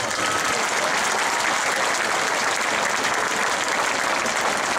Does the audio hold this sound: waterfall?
no